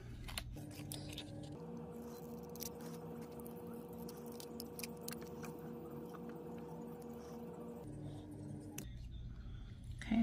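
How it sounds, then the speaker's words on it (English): Small cuticle scissors snip around a waterslide decal, a series of faint, close clicks and crisp cuts over a low steady background hum. "So what you want to do is you want to cut around your decal. I have these little cuticle scissors."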